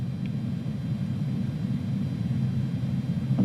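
An A310 airliner in MSFS 2020 roars steadily during takeoff, a dense, loud engine rumble and broadband noise holding constant without pause.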